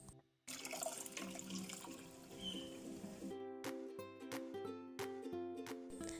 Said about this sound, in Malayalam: ഇനി ഈ ജ്യൂസ് നമുക്ക് ഇതുപോലെ ഒരു അരിപ്പയിലേക്ക് ഒഴിച്ചു കൊടുത്ത് അരിച്ചെടുക്കാം.